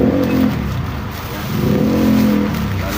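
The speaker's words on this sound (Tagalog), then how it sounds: "Ang kalsada natin traffic." Cars in road traffic, a steady low engine rumble swelling and easing as vehicles move close by, with no voices.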